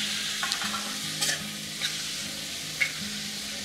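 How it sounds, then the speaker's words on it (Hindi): Tomatoes sizzle steadily in a frying pan for halwai-style aloo sabji, a continuous close hiss broken by a few soft stirring knocks and scrapes, with no voices. "बस तुरंत ही हमें टमाटर डालनी है।"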